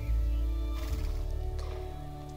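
Horses whinny in the video game Star Stable Online, a loud neigh rising over steady game music and ambient drone, with soft rhythmic hoof sounds continuing underneath.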